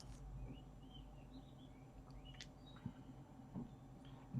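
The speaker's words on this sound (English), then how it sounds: "there are birds singing this morning" Faint birdsong drifts in from a distance, scattered chirps and short whistled phrases over a quiet, low hum.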